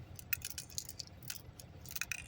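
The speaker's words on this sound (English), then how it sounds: "I hear something rattling in there" A loose part rattles inside an Autel JVCI passthrough device used for BMW key programming, giving a quiet, irregular series of light metallic clinks and shakes close by, with no talking.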